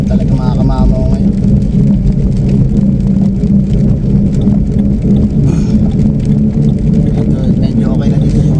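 A car drives through rain on a busy road, with a steady low rumble of engine and tyres on wet pavement running the whole way through, loud and constant.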